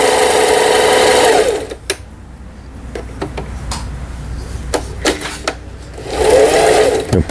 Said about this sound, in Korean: 그 다음에 누비는 바느질, 요 다이아몬드 바느질,